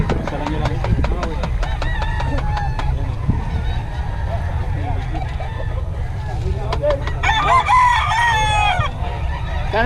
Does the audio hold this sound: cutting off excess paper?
no